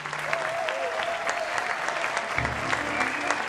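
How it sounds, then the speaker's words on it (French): Crowd applause at a French-language comedy show, continuous dense clapping with a sustained tonal hum and background voices mixed beneath it. "On va les applaudir très fort."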